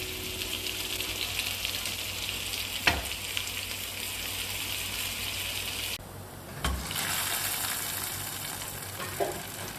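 Desi ghee sizzles with cumin seeds, curry leaves and dried red chilies as a tempering for dal, a continuous loud crackling fry with a sharp pop, and a fresh burst of hissing midway as more goes into the hot fat.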